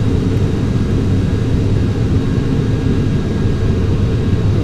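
The jet engines of a De Havilland Comet in Flight Simulator X roaring steadily during the takeoff roll, a loud, unbroken low rumble with a hiss layered above, with no voices.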